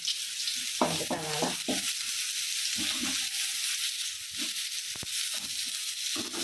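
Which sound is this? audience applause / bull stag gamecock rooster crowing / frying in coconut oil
frying in coconut oil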